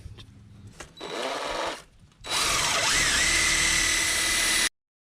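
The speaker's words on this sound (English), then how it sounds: "We'll sand that down, and then we'll attach our new one." A power sander works the metal of an emergency brake cable mount on a GMC Sierra 2500 HD truck. A steady motor whine runs briefly, pauses, then runs longer and loud before cutting off abruptly.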